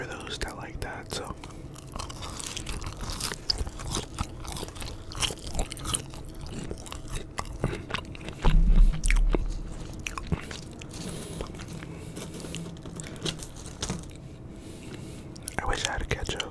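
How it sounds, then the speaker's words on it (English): Close-up eating of Whataburger fries: soft, repeated chewing and mouth sounds with occasional crunchy bites, recorded intimately, with quiet whispered talk in places. "I'm probably gonna finish the fries. I'm just gonna eat and not talk for those that like that."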